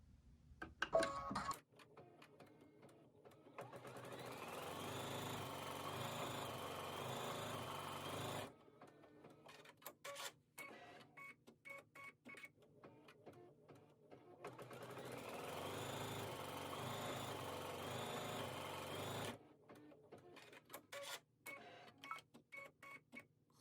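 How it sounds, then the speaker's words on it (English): A sewing machine straight-stitches white cotton fabric hexagons onto a base fabric, running in two long steady whirring stretches of several seconds each, separated by quiet handling clicks and ticks, quiet and close with no talk. "So I just allow my machine to continue to stitch over each hexagon twice"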